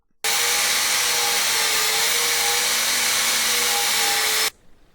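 A power sander grinding paint and the top layer off a cracked aluminium alloy wheel rim, one loud, steady whining run of about four seconds that starts and stops abruptly.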